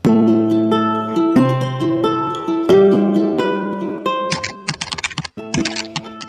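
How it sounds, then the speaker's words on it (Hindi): Sustained musical tones fill the opening seconds, then a rapid clatter of typewriter keys cuts in, irregular and close, over the fading music. "टाइपराइटर के बटन दबने की आवाज सुनाई दे रही थी।"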